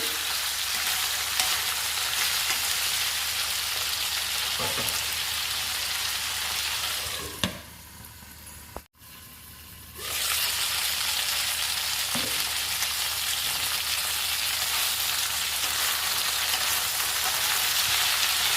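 Chutney ingredients fry in a pan, giving a loud, continuous close sizzle while they are stirred, with a few scraping stirs and a brief dip in the sizzle midway before it returns strongly.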